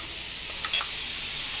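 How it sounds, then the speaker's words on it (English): Chopped onions sizzle in a hot frying pan, a loud, steady bright hiss that fills the whole moment with a few soft clinks of stirring partway through. "Do you hear that sizzle?"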